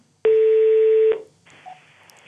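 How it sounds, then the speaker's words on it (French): A telephone number being dialed gives one loud, steady keypad tone lasting almost a second, then a fainter, quieter tone and light line noise. "Appelons Alexandre Bompard tout de suite"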